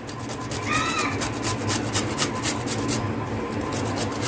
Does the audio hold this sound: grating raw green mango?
yes